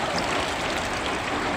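Water splashes and streams steadily over piglets being washed at a pig farm, with no pauses and no voices.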